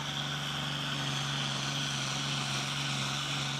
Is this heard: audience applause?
no